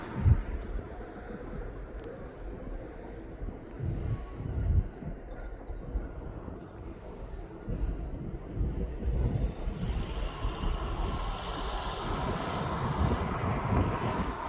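A Jet2 holidays airliner in Gran Canaria livery departs East Midlands Airport, its engines a steady distant roar that swells into a louder, hissing rush as the aircraft powers away.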